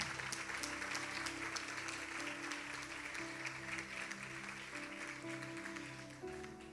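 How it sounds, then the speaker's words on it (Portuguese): A church congregation applauds in a steady, faint wash of clapping over sustained keyboard chords, with no clear voices on top. "Pode aplaudir o Senhor, queridos."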